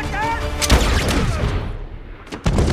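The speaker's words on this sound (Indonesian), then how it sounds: "Ternyata sniper anak buah Frank telah siap menembak Kozlov dari jarak jauh." A sniper rifle shot rings out in a tense parking-lot film scene, one sharp loud crack followed by a brief echoing tail, set against music and other soundtrack noise, with another burst of impact near the end.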